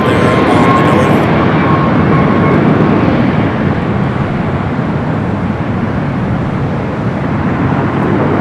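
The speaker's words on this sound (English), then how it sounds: "Let's take you to the 757 coming up from Boston." A Boeing 757 arriving from Boston at Los Angeles International Airport, heard as a loud, steady broadband roar of jet engines that holds throughout, with no voices over it.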